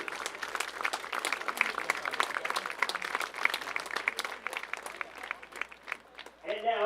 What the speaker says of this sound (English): How about a round of applause for our first responders?